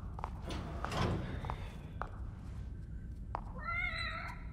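An indoor cat gives a single short, close meow near the end, after a few soft knocks and clicks against a quiet room hum.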